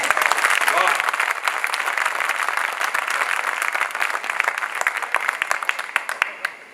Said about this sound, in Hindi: मुझे एक बार ताली बजाकर बताएं